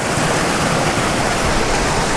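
A small, steep mountain creek spills over tiny pools in a steady, loud, close rush of water, continuous and unbroken, with no talking.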